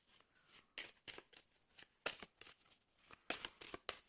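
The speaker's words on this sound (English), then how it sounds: "Let me shuffle a little bit." Tarot cards shuffled by hand for a reading, a quiet series of crisp riffling bursts in uneven rhythm, close and alone.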